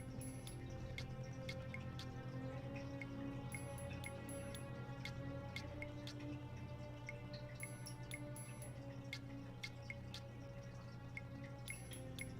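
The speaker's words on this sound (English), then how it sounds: "Is it raining outside?" Quiet, steady rainfall in the video game Tex Murphy: Under a Killing Moon, with a soft constant hiss and occasional sharper drips tapping nearby.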